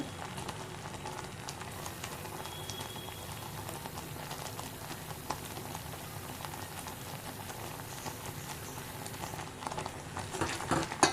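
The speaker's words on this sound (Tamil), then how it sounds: "நல்ல பாகு வர வரைக்கும் நம்ம காய்ச்சணும்." Dense, continuous bubbling and popping from sugar syrup boiling in a pan, steady throughout with no talking.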